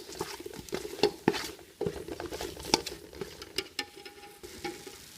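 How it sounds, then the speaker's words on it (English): Braised pork organs stirred in a pot at a Cambodian village street-food stall, a utensil scraping and clacking in irregular close taps and scuffs over a faint sizzle, with no voices. "And then give it a stir."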